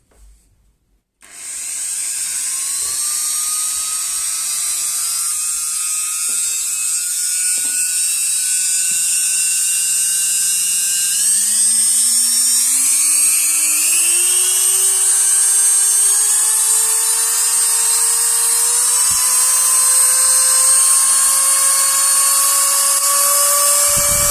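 Bim Proware mini rotary engraving and grinding tool switched on after a brief click, a loud steady high-pitched motor whine that climbs gradually in pitch as it spins up and runs continuously alone.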